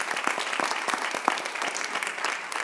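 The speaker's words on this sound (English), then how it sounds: "So a round of applause for our former school board members" An audience at a school district annual electors meeting applauds former school board members, with steady, moderately close clapping from a small crowd that lasts a few seconds.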